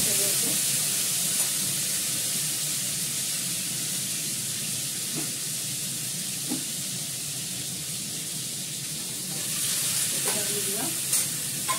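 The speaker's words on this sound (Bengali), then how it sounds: "জিরে ফোড়ন দেবো, আলুটা দেবো," Potatoes and cumin seeds crackle and sizzle in a pan as they are stirred. The frying runs on without a break, with occasional scraping clicks from the stirring close by.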